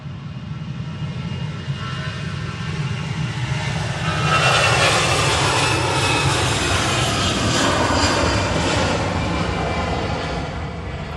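An EasyJet airliner's jet engines at Manchester Airport, a loud steady roar that swells into a stronger rushing whine midway as the plane powers up and passes nearby.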